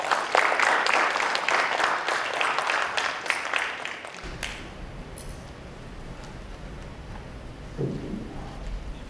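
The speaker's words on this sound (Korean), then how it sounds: "교수님을 큰 박수로 맞이해 주시기 바랍니다." An audience at a securities forum welcomes a speaker, clapping steadily for about four seconds, loud and dense, then the applause cuts off into quiet room noise.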